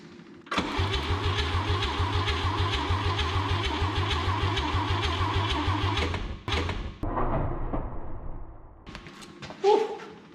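A 1959 Chevrolet engine cranks over with a fast, even rhythmic chug for several seconds, stops, then cranks again in shorter uneven bursts that sputter without catching, loud and close.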